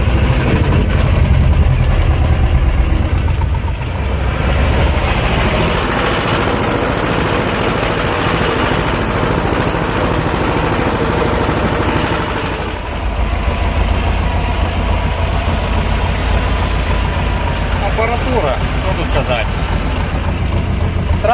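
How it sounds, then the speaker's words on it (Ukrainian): A steady, loud engine drone runs throughout, a YuMZ and a T-25 tractor plowing a clay field together nearby, with a constant low rumble and slight shifts in load. "Оранка в півтора трактора."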